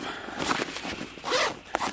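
A zipper on a camouflage hunting backpack is pulled open close up in a few quick rasping strokes, each one a short, scratchy burst.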